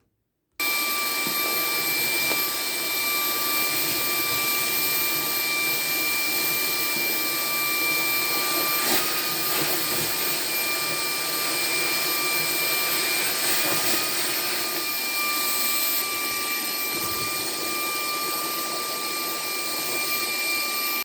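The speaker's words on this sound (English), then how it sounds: "We're gonna use the hose and suck this up now." Ryobi HP stick vacuum with its hose attachment running continuously, a loud steady high-pitched whine and airy roar with slight fluctuations as it sucks up debris, close to the microphone and alone.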